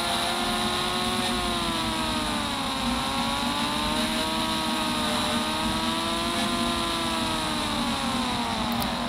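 Steady, continuous motorcycle engine drone from the Indian Bike Driving 3D video game, its pitch rising and falling gently in slow waves as the bike revs, loud and unbroken throughout.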